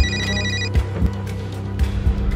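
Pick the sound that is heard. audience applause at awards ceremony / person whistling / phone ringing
phone ringing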